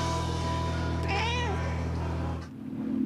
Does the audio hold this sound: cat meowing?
yes